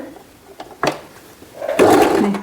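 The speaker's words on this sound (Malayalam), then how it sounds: "ഇനി നമുക്ക് തയ്ച്ച് തുടങ്ങാം ഇത് ഇതേപോലെ നമുക്ക് തയ്ച്ച് എടുക്കാം" Sewing machine stitching a silk skirt and long blouse, one short burst of whirring stitching near the start and a longer, louder run of steady stitching in the second half, close by with no talk.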